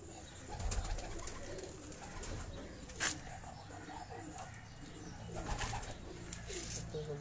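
Pigeons, Kabli high-flying breed, coo softly in low, throaty bursts, with a few sharper rustles and clicks nearby and a faint hum of background noise.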